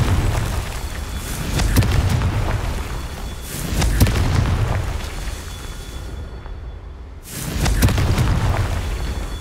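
Confringo blasting spells exploding in Hogwarts Legacy: loud, deep booming blasts repeating every couple of seconds, each with a rumbling low tail and a crackling burst, one brief silent gap before the final blast.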